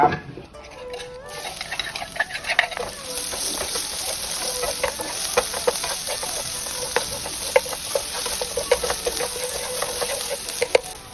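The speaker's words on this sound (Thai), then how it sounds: "เอาสามเกลือลงไปผัดให้หอมเลย" Garlic, coriander root and pepper paste stir-fried in a little oil in a nonstick pan, a bright steady sizzle with frequent scraping clicks of the spatula, close up, as a rooster crows in the background.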